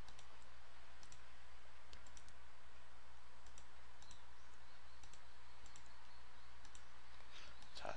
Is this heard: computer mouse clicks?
yes